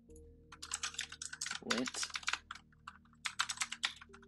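Keys clatter on a computer keyboard as a command is typed in a terminal, a quick irregular run of close taps split by short pauses, with a person talking partway through.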